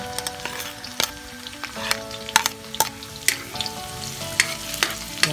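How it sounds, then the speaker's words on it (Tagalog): Onion frying in hot oil in a pan, with a steady crackling sizzle broken by repeated sharp clacks of a utensil stirring, close and fairly loud with no talking. "naglagay na ako ng mantika. Pinapainit lang natin. Tsaka natin lagay ng ating sibuyas."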